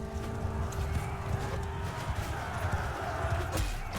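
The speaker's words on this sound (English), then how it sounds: "we are charging with our second cav at this stage" Cavalry horses charge across a battlefield in the video game Bannerlord, a busy patter of many hooves clip-clopping at a gallop with an occasional whinny, steady and fairly close amid general battle noise.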